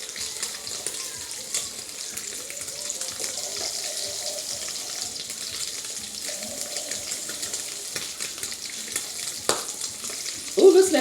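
Potatoes frying in a pan on low heat sizzle steadily after a little water is added, a continuous hiss with faint stirring and clatter, ending in a louder burst near the close; no talk.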